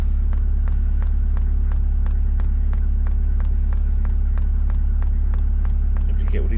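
A Chinese diesel heater fitted in a VW T4 campervan starts up: a steady, rapid ticking repeats about three times a second over a constant low hum, close and even throughout.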